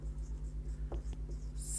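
Chalk or marker writing an equation on a board, heard as faint, steady rhythmic strokes over a low hum, with a couple of sharper taps.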